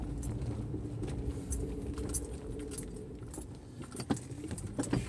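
Car keys jingle and jangle continuously while a car is driven, the light metallic rattling bursts riding over a low steady engine and road rumble, fairly close and modest in level.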